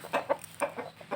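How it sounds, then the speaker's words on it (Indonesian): A sick chicken with a respiratory illness gives a run of short, close, rhythmic clucking sounds, with raspy breathy noises between them. "saya mencoba untuk mengobati ayam yang sedang ngorok ini"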